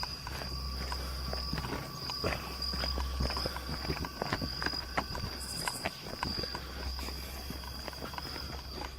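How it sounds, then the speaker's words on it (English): Footsteps crunch through the woods at night, a series of irregular steps on leaf litter and ground cover, fairly close, over a steady low hum and faint insect chirping. "Dude, I hear somebody walking, and it's not our freaking footsteps."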